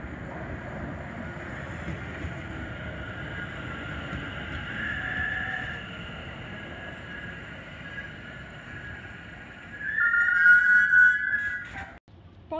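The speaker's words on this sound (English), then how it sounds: "London Overground train going to London Euston" A London Overground train bound for London Euston sits and moves at Kensal Green station, with a steady low rumble under a high whine that rises into a louder squealing tone near the end before cutting off.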